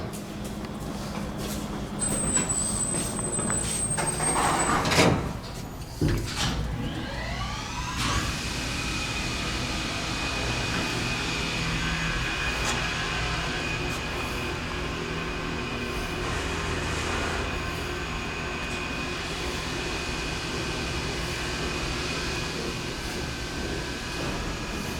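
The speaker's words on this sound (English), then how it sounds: "Listen to the motor going up when the door shuts." Vintage Dover hydraulic elevator: an electronic chime and a door sliding shut with a thud, then the motor starts with a rising whine that settles into a steady loud hum and drone for the rest, no talking.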